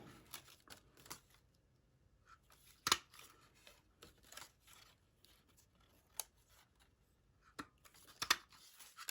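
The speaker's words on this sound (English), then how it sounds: "take any kind of corner and just punch some circles out" A handheld paper punch snapping circles out of card stock for a shaker card, a series of sharp crisp clicks spaced unevenly over a quiet background.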